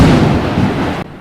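A bomb explosion strikes close by in Dubai, a loud, thick rumbling roar that holds for about a second and then cuts off sharply into quieter background.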